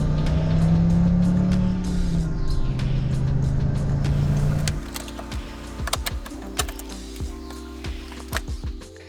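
A 2008 Dodge Viper SRT-10 runs with a steady, loud engine drone that shifts to a lower, rougher tone midway, with scattered clicks and ticks over the continuous rumble.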